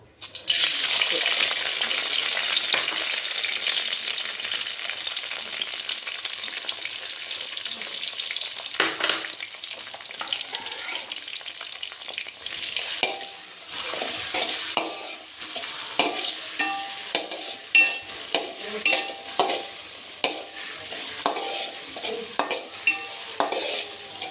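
Chicken pepper curry sizzles loudly in hot coconut oil, a dense steady hiss that later breaks into bursts of stirring with scraping and clinking of a utensil against the pan. It is close and carries on without speech.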